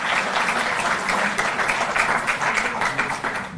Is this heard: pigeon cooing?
no